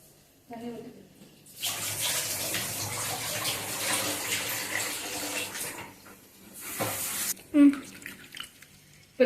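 Water gushes from a tap into a cooking pot for keerai kolambu, a strong rushing pour lasting several seconds, then a second short burst, with a voice speaking at the start and end.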